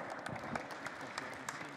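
Faint applause from an audience at a prize ceremony for a chocolate-making competition, a soft steady patter of many hands lasting under two seconds.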